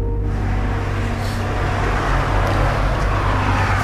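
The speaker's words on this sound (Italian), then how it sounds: "Arriva una macchina, mi nascondo." A car approaches outside an abandoned building during urban exploration, a loud, steady engine and road rumble that swells slightly as it draws near, with no talk over it.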